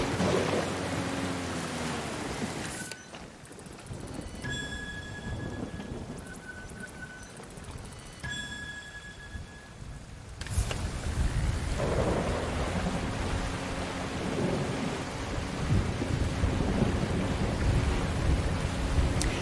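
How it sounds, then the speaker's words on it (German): Steady rainfall hisses in the video game Submerged: Hidden Depths, broken by deep rolling thunder, with the downpour fading briefly and then returning heavier for the rest of the scene. "Regnet es jetzt wegen der Story?"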